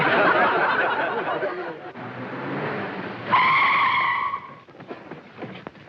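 A 1940s car skids to a sudden stop with a screeching tire squeal that starts abruptly mid-scene and fades, preceded by rumbling motion and muffled voices.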